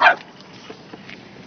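A single dog bark inside a car parked in the heat, short and fairly close at the start, then only faint background sounds.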